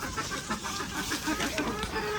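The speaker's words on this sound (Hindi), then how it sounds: "मुर्गियाँ इधर कहाँ घुस रही हैं।" Chickens cluck in short, scattered bursts at moderate distance, mixed with faint background chatter and rustling.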